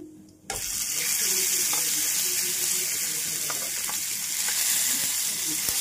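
Marinated pomfret fish hit hot oil seasoned with black cumin seeds, setting off a loud, steady hiss and sizzle that starts abruptly and holds without a break, with a few small pops and clicks.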